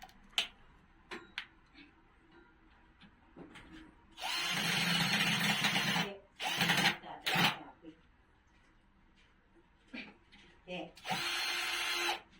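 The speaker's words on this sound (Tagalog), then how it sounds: "electric drill, yung handy." A handheld electric drill used while assembling a space-saving dining table, several loud whirring bursts of a few seconds each, close by, with sparse clicks and voices talking in the pauses.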